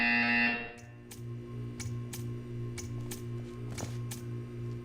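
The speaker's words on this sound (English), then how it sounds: "You will hear a buzzer." In the video game Portal 2, a short electronic buzzer sounds, then a steady low hum continues with several sharp ticking clicks scattered over it.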